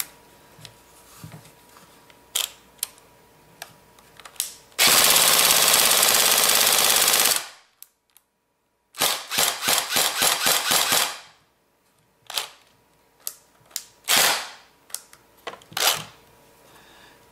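Electric airsoft gun with a repaired piston head firing on full auto: a long sustained burst, then shorter rapid bursts and single shots, loud and close, separated by silent gaps.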